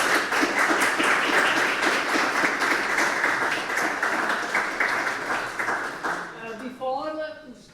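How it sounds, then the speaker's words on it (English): Audience applause welcoming a lecturer before a university lecture on machine learning, a dense steady clapping of a large crowd that holds for several seconds and then thins out as a voice begins to speak near the end. "So please join me in giving him a very warm applause."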